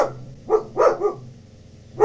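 A dog barks several times indoors, two quick yaps followed by a pause and another sharp bark, loud and close.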